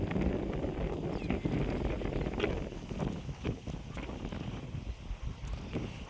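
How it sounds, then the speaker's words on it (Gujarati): Steady wind blows hard across the microphone, a continuous low rumbling roar with gusty swells and no voices. "જો કેવો પવન આવે છે."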